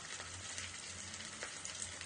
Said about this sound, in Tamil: இப்போ நம்ம எண்ணெயில் பொரிச்சு எடுத்துடலாங்க